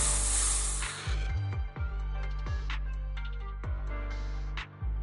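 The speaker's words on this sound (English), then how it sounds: "Here, have a taste of this special Bangbu spray." Special Bangbu spray in the Zenless Zone Zero video game, a sharp bright hiss at the start that cuts off after about a second, followed by tonal game music and sound effects.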